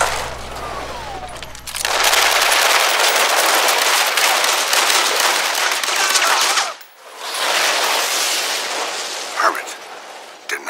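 Rapid automatic gunfire from an action film scene, dense continuous bursts that break briefly and resume, loud and close, with speech heard before the shooting starts.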